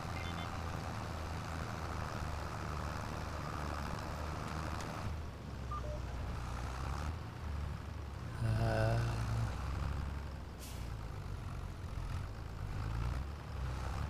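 Heavy tractor engine in the farming video game Farming Simulator 25, a loud, steady low rumble running throughout with slight shifts in load and a brief surge near the middle, no voices.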